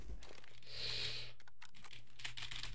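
Keys pressed on a computer keyboard during gaming, faint clicking taps under a steady low hum, with a brief clustered burst near the start and scattered presses afterward.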